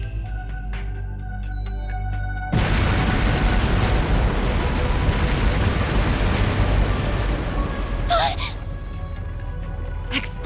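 Explosive artifacts going off as fireworks in the video game Trails Through Daybreak, a sudden loud blast after a quieter stretch that rolls into a sustained roaring rumble, with a sharp crackling burst near the end.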